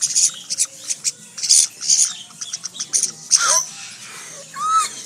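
Pet birds squawk and chirp in repeated sharp bursts at close range, with people talking quietly between calls indoors.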